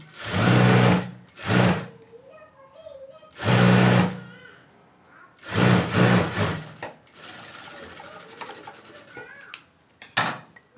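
Sewing machine running in several loud bursts while stitching a straight seam on a silk blouse, with quieter handling noises and pauses between runs.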